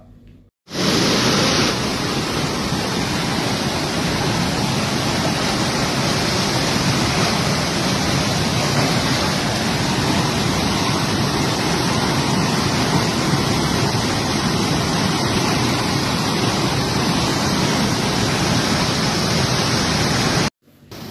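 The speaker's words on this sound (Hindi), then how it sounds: "महादेव का झरना रविवार को पूरे वेग के साथ बहता रहा" Mahadev waterfall in Chittorgarh during rainy weather, running at full force: a steady, loud, dense roar of rushing water, unbroken for about twenty seconds with no voices.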